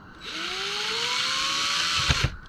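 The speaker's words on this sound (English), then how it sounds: "We're going to finish them off with the drill." Power drill driving screws into the backing plate of a Liberty gun safe's relocker, a steady close whine rising slightly in pitch, ending with a couple of sharp clicks as it stops.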